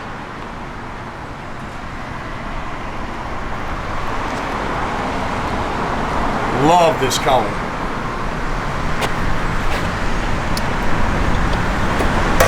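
A 1992 Ford Mustang LX rolls along a road, a steady broadband drone of road and engine noise from inside the car that builds slightly, with someone briefly speaking partway through.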